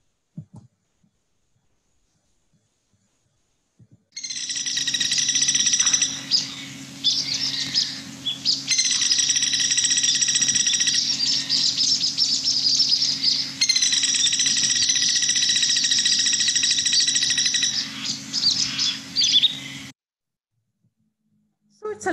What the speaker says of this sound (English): This is the rufous-bellied woodpecker, highly underrated woodpecker.